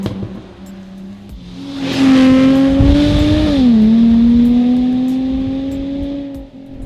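A Jaguar F-Type Coupe V6 accelerates hard, its exhaust rising into a loud, raspy rising drone that dips briefly at a gear change, then climbs again, close and with no voices.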